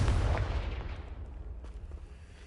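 Explosive blast from the Confringo spell in a Harry Potter video game: one heavy boom with a rumbling low-end burst that fades over about two seconds.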